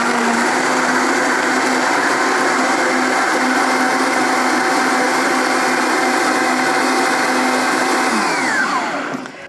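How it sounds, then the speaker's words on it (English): Blender running on low, blending a berry protein smoothie: a steady loud motor whine with constant pitch, then spinning down abruptly at the end, no voices. "now we're ready to blend it again"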